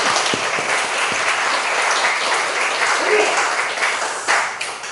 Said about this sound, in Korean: 우리 소수 형제 진짜 수고 많는데 우리 격려의 박수 한번 보내드리겠습니다